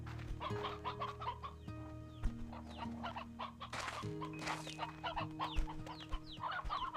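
Chickens and a rooster in the video game Slime Rancher 2 cluck busily in a continuous chattering stream over a low steady musical drone, close and fairly loud.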